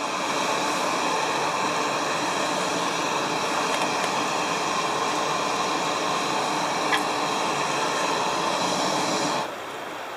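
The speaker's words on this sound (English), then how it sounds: "My water's boiling" Water boiling in a pot at a camp stove, a steady loud hissing roar that runs unbroken and drops off abruptly near the end.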